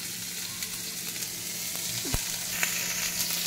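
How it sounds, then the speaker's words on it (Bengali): Chopped onion and green chillies sizzle in oil in a cooking pan, a steady close-up crackle and hiss with a few sharp pops and stirring clicks. "পেঁয়াজটা ভাজা হবে, এর মধ্যে দিয়ে দেবো কাঁচা লঙ্কা"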